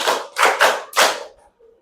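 A classroom of students claps hands together in a counted pattern, four distinct loud group claps in quick succession with short gaps, close and clear.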